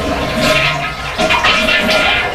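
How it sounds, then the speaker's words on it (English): A household toilet flushing in a home bathroom during plumbing work on a tub and shower faucet, a loud, close, steady rush of swirling water lasting throughout. "It's also a good idea to flush the toilet too"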